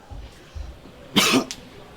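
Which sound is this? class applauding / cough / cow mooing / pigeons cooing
cough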